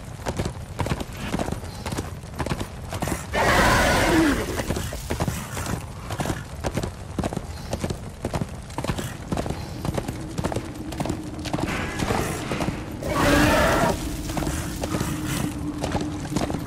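Hooves clip-clop in a steady galloping rhythm from Death's horse in the video game Darksiders II, with two louder bursts of whinnying neighs rising over the hoofbeats.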